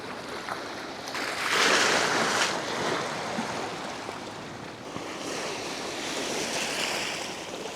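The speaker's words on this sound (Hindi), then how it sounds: "यहाँ किनारे पर पानी टकरा रहा है" Sea water washes against a stony shore at low tide near a fishermen's village on the Sindh coast, a steady close surf hiss swelling twice, with wind buffeting the microphone.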